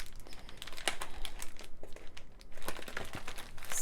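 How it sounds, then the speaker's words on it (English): Plastic wrapping is pulled off an A2 diamond painting light pad, giving close, irregular crinkling and crackling bursts with short tearing sounds. "So let me unwrap, if I can find the edges here."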